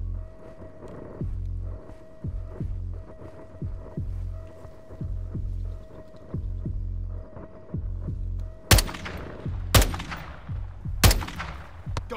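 Three sharp, loud rifle shots crack near the end of a Call of Duty: Modern Warfare II scene aimed at a sniper, following a long stretch of low, rhythmic throbbing pulses like a heartbeat.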